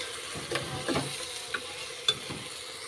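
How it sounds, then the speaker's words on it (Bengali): Washed rice being stirred in a cooking pot makes a few scraping, gritty strokes over a low sizzle, with one sharp clink against the pot near the end. "এখন এটা আমি নেড়ে চেড়ে নেব।"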